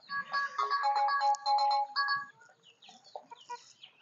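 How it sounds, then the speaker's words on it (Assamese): A phone ringtone plays a bright, repeating melody, with chickens in a backyard coop clucking faintly beneath it and continuing alone as the ringing stops. "ফোন আহিছে, ৰ'ব কোনবা হয় ৰ।"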